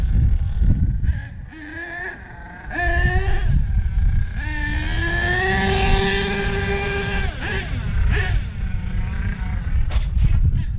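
An engine idles and revs in a garage-style setting, with a steady low rumble, rising and falling pitch from throttle blips, and a sustained higher-revving stretch in the middle; close and fairly loud, no talking.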